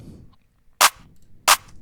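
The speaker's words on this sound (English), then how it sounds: "After that, I just add this clap sound." Two sharp, bright clap hits ring out alone, spaced under a second apart, each short and snappy with a quick decay.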